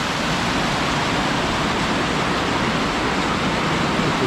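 Water pours over a lake spillway, a loud, steady broadband rush with no breaks, close by and without any talking.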